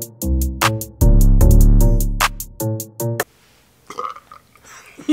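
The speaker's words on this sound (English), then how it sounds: "I'm about to burp anyway." Loud, drawn-out burps after chugging a whole soda for a challenge, a rapid series of croaky belches with one long sustained rumble, then quieter shuffling and breathy sounds.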